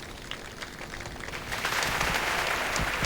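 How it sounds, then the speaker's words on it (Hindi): Audience clapping at a health talk on millets, starting as a moderate patter and swelling into dense, loud, sustained applause in the second half, with no voices over it. "तालियां भाई"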